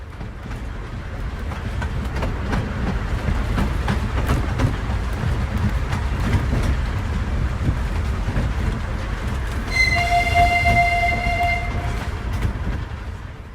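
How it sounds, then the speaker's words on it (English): A diesel train on a Yorkshire heritage railway rumbles steadily close by with low engine drone, then a sustained two-tone horn sounds for about two seconds near the end. "It wasn't steam actually, it was a diesel engine."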